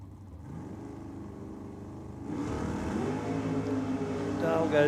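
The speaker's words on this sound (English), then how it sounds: "here we have our last car going down the track tonight" A nitro drag racing car at a Nitro Champs meet is heard as a distant engine drone that swells into a louder, harsher roar partway through, rising toward the end.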